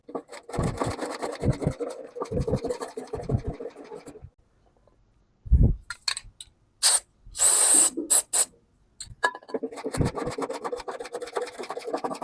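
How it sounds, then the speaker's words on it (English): Several short, close bursts of WD-40 lubricant spraying onto a discarded lawnmower, hissing between stretches of scraping and rubbing noise, with a quiet gap before the sprays. "first some WD-40."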